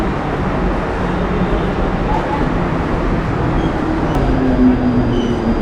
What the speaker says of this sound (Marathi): प्लॅटफॉर्म क्रमांक 4 ही लोकल 4:09 छत्रपती शिवाजी महाराज ट्रेन आली बघ